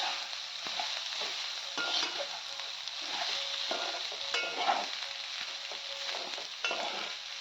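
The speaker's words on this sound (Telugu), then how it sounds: "రైస్ని యాడ్ చేసుకొని ఒక 2 నిమిషాల పాటు కలుపుతూ ఉండాలి." Rice for lemon rice is stirred in a frying pan, with repeated scraping and clinking strokes over a low steady sizzle, close and alone with no speech.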